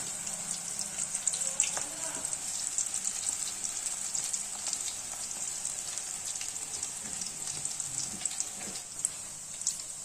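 Chilli bajji in gram-flour batter frying over low heat in hot oil, a steady close crackling sizzle with fine bubbling pops that continues evenly throughout.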